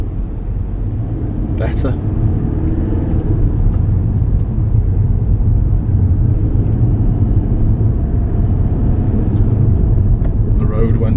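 A car driven by a learner driver on a lesson gives a steady, loud engine rumble as it accelerates, with road noise throughout and a voice speaking briefly over it.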